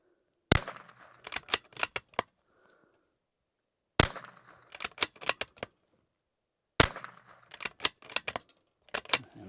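A rifle with a thumbhole stock fires three separate bursts, each made of several quick, sharp cracks and clicks. The bursts are fairly faint and are separated by near silence.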